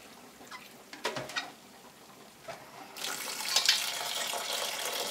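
Tap water runs into a bowl as soybeans are rinsed for homemade soy milk, starting with a few soft splashes and clinks, then swelling into a steady, bright gush in the second half.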